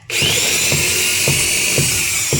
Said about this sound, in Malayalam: ആദ്യം ഇതൊക്കെ തുളയ്ക്കുക ഓട്ടാക്കുക